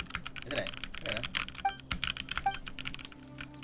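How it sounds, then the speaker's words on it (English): Close, irregular clicks and clacks of fingers typing on a computer keyboard with a microphone aimed straight at it, coming in quick uneven bursts with brief pauses. "I love hearing my own keyboard."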